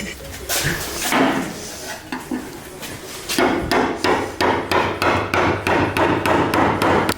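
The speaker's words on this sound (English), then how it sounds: "I'm using a flathead and a hammer" A hammer tapping a flathead screwdriver to pry glued car trim near a taillight pocket on a Honda Integra project: a few scattered taps, then a steady run of sharp, evenly spaced metallic strikes, close and loud.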